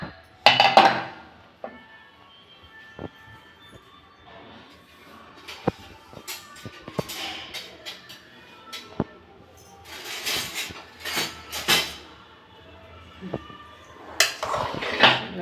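A metal spoon scrapes and clinks irregularly against a metal pressure cooker pot while stirring ven pongal, with scattered clatters and quiet gaps in between.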